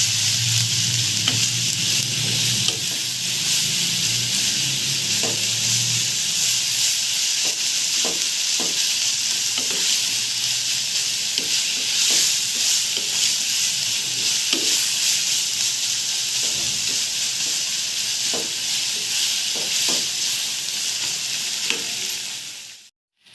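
Chicken mince filling for crispy wontons sizzles steadily in a pan, a constant bright frying hiss with soft intermittent stirring scrapes, no talk.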